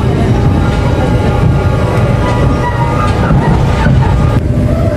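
Executive passenger train, the Ranggajati on the Jember–Yogyakarta route, rolling into Tanggul station, heard from inside the carriage as a steady, loud low rumble of wheels and car noise that continues throughout without talk.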